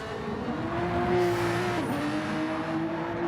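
Race cars including a leading Porsche and an Infiniti in Gran Turismo 7, engines droning steadily at high revs in a close pack, with one car's pitch dipping sharply as it shifts gears.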